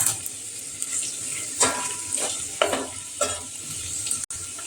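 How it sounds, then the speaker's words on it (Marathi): Onions and mustard seeds frying in a home pan, a constant close sizzle broken by several stirring scrapes and clinks. "थोडंसं लालसर होऊन देऊया कांद्याला."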